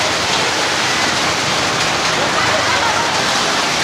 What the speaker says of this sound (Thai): เป็นฝนเทียมครับไม่ใช่ฝนจริงฝนตกเป็นฝนเทียมครับ